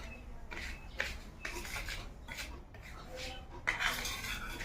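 Spoon mixing spice masala for chilli pickle in a bowl, soft scraping and rubbing strokes in an uneven rhythm with light clinks of metal on the bowl, close but fairly quiet.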